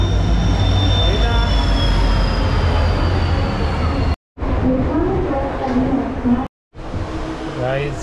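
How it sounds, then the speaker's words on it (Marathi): Matsyagandha Express train pulling into a station on the Mumbai to Karwar route, a loud steady rumble with a high whine from the wheels, broken by two brief cuts, with voices audible over the later part. "ट्रेन आली आहे गाईस, ही बघा मत्स्यगंधा एक्सप्रेस।"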